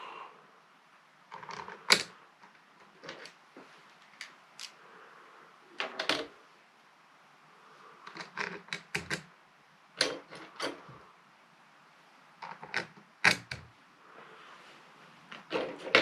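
Small metallic clicks and ticks come from shoulder bolts being screwed down with a Torx driver on a Fanatec QR2 wheel mount with plastic parts. The clicks fall in short irregular bursts at close range, with quiet pauses between.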